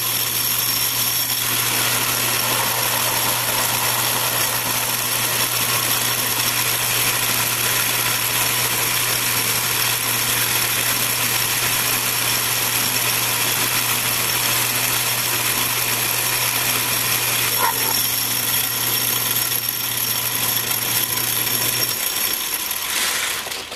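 A metal lathe takes a steady roughing pass turning a grinding wheel balancing arbor down to one inch, a constant motor hum with cutting noise running unbroken for about twenty seconds before stopping.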